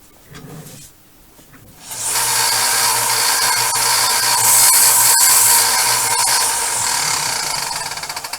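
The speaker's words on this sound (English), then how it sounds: "Take this over and square it up on the belt sander." A belt sander squares up a freshly cut piece for an HO scale crossover; after a few quiet handling noises it spins up into a loud, steady grinding whine with a faint rubbing edge, then tapers slightly near the end.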